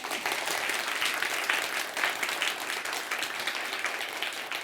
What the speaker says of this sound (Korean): 박수 한번 쳐야 돼요.